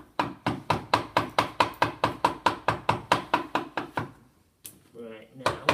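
A mallet taps a chisel cutting a stopped chamfer in wood, with about twenty sharp, evenly spaced knocks in a steady rhythm. After a short pause, a voice speaks briefly and the tapping starts again.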